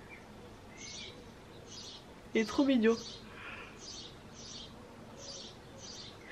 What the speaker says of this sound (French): Je vois le petit oiseau là-bas qui chante de l'autre côté sur le toit.